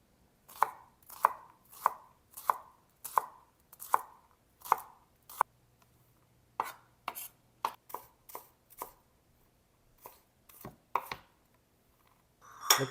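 A kitchen knife cubes a shallot into small pieces on a cutting board, giving a series of sharp, crisp chops in an even rhythm, each one distinct and close, with short pauses between runs.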